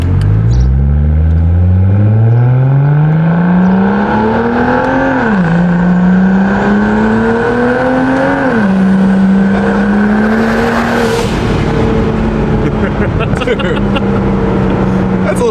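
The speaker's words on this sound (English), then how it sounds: "You guys are gonna hear the pure 2JZ-esque sound from this N54." BMW 135i with a single-turbo N54 engine and exhaust valve revving hard through the gears, loud rising engine tone with shifts, whoosh and pops, close and continuous.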